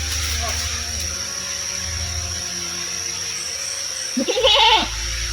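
A single wavering goat bleat rings out close by near the end, over a low steady engine-like hum.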